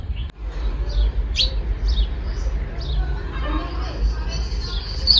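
Sparrows chirp near a nest tucked among garlic outdoors, with repeated short, bright tweets scattered over a steady low background rumble.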